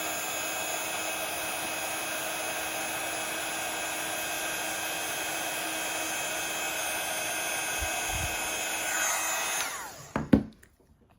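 A heat tool blows a steady, even whirring hiss while melting embossing powder on a Christmas card, running unbroken and close for about ten seconds before switching off with a few small knocks.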